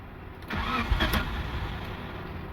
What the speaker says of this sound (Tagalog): we start now. Engine is start, but it will immediately stall.